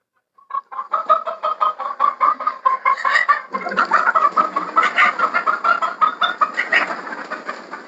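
Poultry hens on an integrated farm clucking in a rapid, continuous chorus, loud and close, with rhythmic overlapping calls and no talking.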